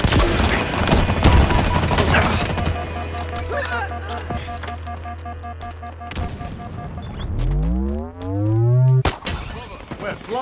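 Rapid gunfire bursts and booming shots from the video game Halo Infinite, dense and loud through the first six seconds, followed by a rising vehicle whine and a sharp final blast.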